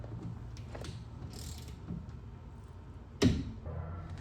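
Torque wrench on a 3/8 drive tightening the drain plug of a BMW E46 M3 differential, with faint mechanical clicks and shuffling, then one sharp, loud click near the end as the wrench reaches its setting.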